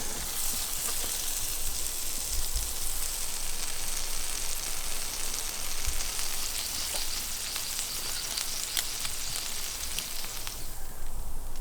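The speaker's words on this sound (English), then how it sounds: "So popped the burgers onto the grill and prepped all my toppings." Burgers sizzling on an outdoor grill, a continuous crackling hiss with scattered pops and spits, steady and fairly close throughout with no talking.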